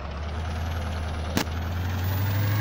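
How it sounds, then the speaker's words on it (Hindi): Bus engine idling in the video game Indian Bus Simulator, a steady low drone with a sharp brief click near the middle. "यहाँ पर आपको बस का साउंड अच्छा सुनाई दे रहा होगा"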